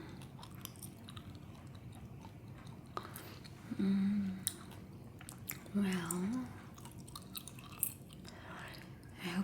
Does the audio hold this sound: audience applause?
no